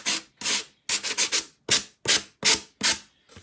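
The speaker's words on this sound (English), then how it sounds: "I'm just sanding the rest of the doily off." Sanding a thin paper doily off a surface with a 220 grit sanding block: about nine short, rhythmic scratchy rubbing strokes, close and fairly loud, with brief gaps between strokes.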